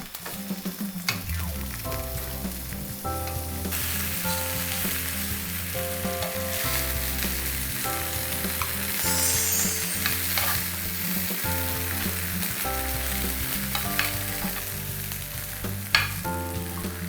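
Scallions and carrots fry in a pan after a light starch coating, a continuous close sizzle with crackling over steady background music, no talking.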